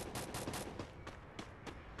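Rapid bursts of gunfire from a video game, several loud shots and volleys in quick succession with no talking.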